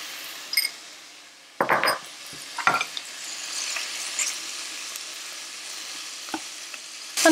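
Shrimps and scallops fry in butter with garlic and ginger, a soft continuous sizzle broken by several sharp bursts of crackling and a few light clinks, close up and without speech.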